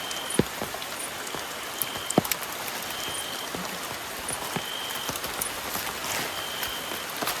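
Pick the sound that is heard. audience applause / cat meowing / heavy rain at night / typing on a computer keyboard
heavy rain at night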